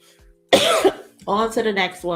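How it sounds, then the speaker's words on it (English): One loud, harsh cough close up, then a person starts talking. "Excuse me for coughing in y'all ear."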